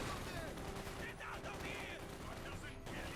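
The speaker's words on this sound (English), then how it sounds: "Maxim machine gun team ready there for Giap" Maxim machine gun firing in Company of Heroes 2, a dense clatter of gunfire packed into a busy battle mix with a voice talking over it throughout.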